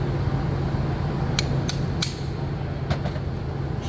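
Sharp metallic knocks, five of them in an irregular run, as a pin is driven out of a Ford shifter, heard over a steady hum in a workshop.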